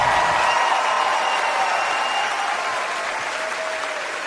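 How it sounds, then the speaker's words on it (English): Stand-up comedy audience gives Bill Burr a dense, sustained round of applause, loud and steady, tapering slightly toward the end with some cheering mixed in. "a round of applause for Bill"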